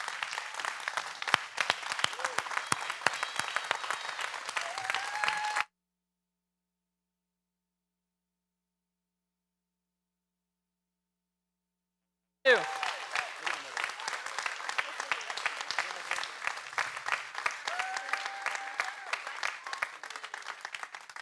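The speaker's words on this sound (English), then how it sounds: "I'm going to ask quickly for Launchpad to come up here so we can get one last round of applause" A school audience applauding students called up on stage for pictures, with bursts of sharp clapping and some whoops, cut off by a long silent gap before the clapping resumes with cheering.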